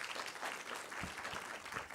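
Audience applause at a management sciences postgraduate research symposium, a faint, distant wash of clapping lasting a couple of seconds.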